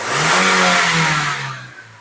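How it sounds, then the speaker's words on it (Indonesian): A fuel-injected car engine idles at about 600 RPM after a Blackcore tune-up, a smooth low hum with a brief swell in revs that then settles back to a quieter, even idle. "Mesin jadi super halus, hanya suara injektor saja yang terdengar."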